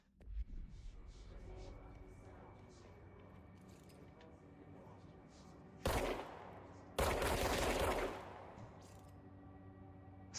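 Gunfire in the video game Control: two loud bursts of rapid shots break over a quieter background of game ambience and a low hum, the second burst longer and sustained.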